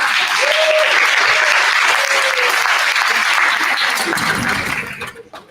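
Sustained loud applause from an audience at a community day of unity and prayer, dense continuous clapping that tapers off and dies away in the final second.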